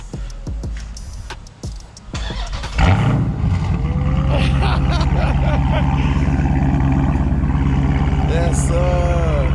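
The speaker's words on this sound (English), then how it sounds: "I'm gonna hit you with a cold start." Dodge Charger Daytona SRT engine firing up from a cold start: a sharp catch, then a loud, steady, deep rumbling idle that fills the rest of the clip close by, with faint background voices before it.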